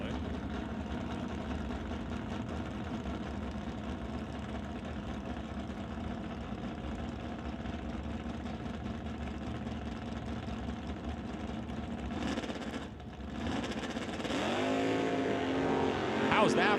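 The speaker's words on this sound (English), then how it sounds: "How's that for a wheels-up launch" Drag race cars, including a 1967 Ford Fairlane and a Chevrolet, rumble steadily at a racetrack, then the engines roar louder as they launch, with crowd and announcer noise mixed in.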